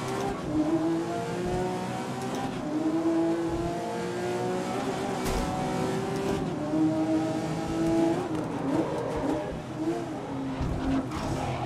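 Race car engine in the racing game Grid (2019) revs and pulls through several gear changes and downshifts, a steady loud drone with pitch sweeps rising and falling.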